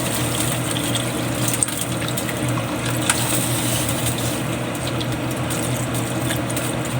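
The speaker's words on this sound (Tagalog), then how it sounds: "Tapos lagyan na natin ng tubig yan guys." Water pours steadily into a cooking pot of pork sotanghon with softened pork, a continuous gushing splash close by that holds at an even level throughout.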